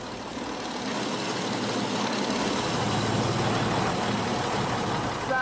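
A First World War tank's overhead-valve engine runs in a steady, loud, low rumble throughout, with no talk over it.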